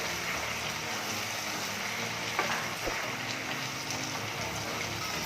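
Tomatoes cook in a pan for chutney, a soft continuous sizzle and bubbling at moderate distance with a couple of faint clicks, steady throughout and without voices.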